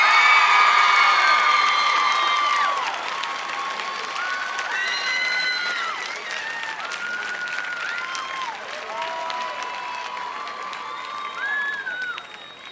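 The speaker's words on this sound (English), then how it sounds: "Please join me in one final round of applause for this year's homecoming royalty" Stadium crowd applauding and cheering for high school homecoming royalty at a football game, a loud sustained roar with scattered whoops and whistles that eases slightly after a few seconds but keeps going throughout.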